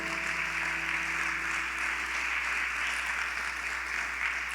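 Applause from a church congregation fills the space steadily and evenly, a dense wash of clapping with faint tonal hum and voices underneath throughout.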